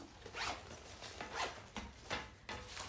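A zipper on a fabric cosmetic storage bag is pulled open in several rasping strokes, close and fairly quiet, with no voices over it.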